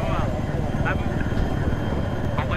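Helicopter in Battlefield 3 gameplay, a steady droning rotor rumble with a close engine hum, heard under players talking.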